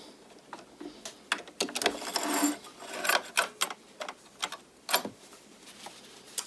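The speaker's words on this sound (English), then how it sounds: "we've sewn all the way around that circle" A home sewing machine stitches a seam around a circle on a knit headband, giving quick rhythmic ticking bursts with brief pauses, close up.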